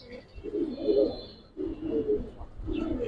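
An original Giribaz pigeon coos nearby in three rounded, throaty phrases separated by brief pauses, fairly soft and with no talking over it.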